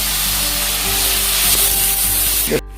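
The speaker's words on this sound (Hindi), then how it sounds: "इसको मैं अच्छी तरीके से मिला लूंगा जब तक ये जिंजर गार्लिक पेस्ट भी अच्छी तरीके से फ्राई नहीं हो जाता है।" Ginger garlic paste frying in a pan for a Bengali-style chicken ghugni, a loud, close, steady hissing sizzle with faint stirring rubs, cutting off abruptly near the end.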